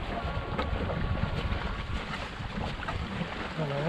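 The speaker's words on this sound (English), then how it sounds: "We've got a westerly wind" Westerly wind buffeting the microphone while sailing a Wayfarer dinghy, a steady low rumbling roar with water rushing along the hull.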